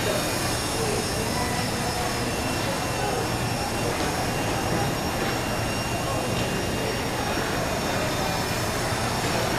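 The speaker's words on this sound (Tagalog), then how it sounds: "Let the helicopter touch your nose" A Walkera Lama remote-control helicopter flies nearby, a loud, steady, broadband whirring rotor and motor drone that continues without a break, with voices mixed in.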